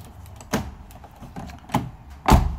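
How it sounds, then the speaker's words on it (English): A BMW V12 car door shuts with a solid thump, then the lock solenoid clacks twice in quick succession, each a sharp, close mechanical knock over a faint background hum. "Close the door, and it's locked."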